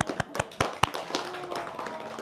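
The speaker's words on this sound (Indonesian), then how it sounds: "Kita tepuk tangan boleh?" An audience claps hands in a short burst of a few sharp, separate claps followed by scattered quieter clapping.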